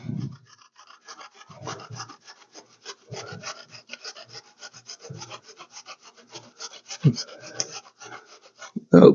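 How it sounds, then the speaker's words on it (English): Zucchini rubbed against a hand grater for latkes gives close, repeated rasping strokes in an uneven rhythm, with soft thumps and a louder scrape at the end. "we'll do a little bit more grated zucchini"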